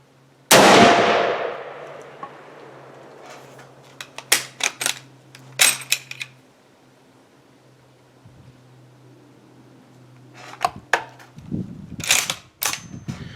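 Mosin-Nagant rifle firing 7.62x54R handloads at an outdoor range: one loud, sharp report rings out and decays, followed by clacks and rattles of the bolt being worked, then more metallic handling noises.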